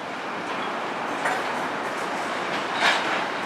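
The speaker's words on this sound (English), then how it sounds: "some random set of intermodal cars was also being pushed up towards the south end" A string of intermodal freight cars rolls through a rail yard as it is pushed along, a steady, moderately distant rumble and hiss with faint wheel clicks, no voices.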